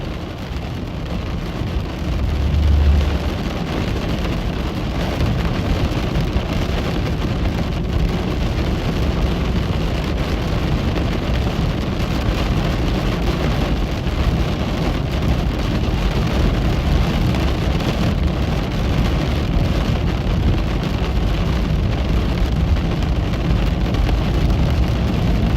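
A heavy rainstorm drums steadily on a car at night somewhere between western Nebraska and central Iowa, with a low rumble of thunder early on under the constant loud rain wash.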